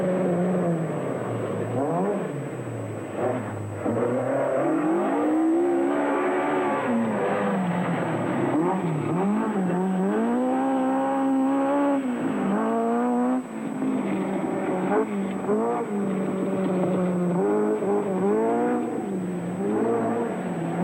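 A 1978 British rally championship car driving flat out through a special stage, its engine loud and close, revving hard up and down through the gears with brief lifts between bursts of acceleration.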